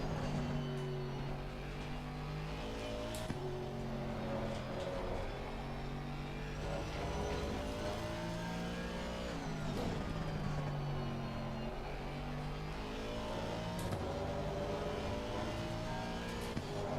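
A race car engine roars at Spa in a racing video game, holding high revs with rising pitch sweeps and sharp gear changes, loud and continuous throughout.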